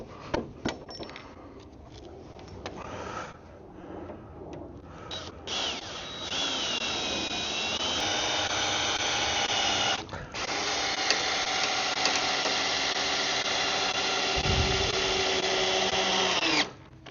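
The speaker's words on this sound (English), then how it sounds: "let's put four screws, 2 in each end" Power drill driving four screws into the ends of a DIY wooden potato grow bed, heard as sustained whirring bursts that stop and restart, loud and close, with no talk over it.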